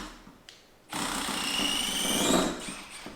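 A Milwaukee impact driver runs on its lowest setting, starting after a quiet pause with a sudden steady high-pitched whir and buzz that holds, swells slightly and then tails off.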